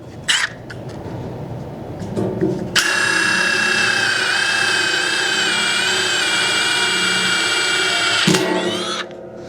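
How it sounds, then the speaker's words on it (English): A power drill spins up after some brief handling noises, whining steadily for about six seconds at close range while drilling a hole in a Thunderbolt 1000T siren horn, before stopping, with short clatter around it. "we're going to go ahead and drill this hole right here"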